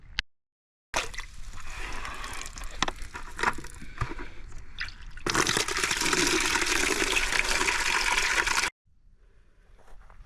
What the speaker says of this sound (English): this is a super fast way to fill buckets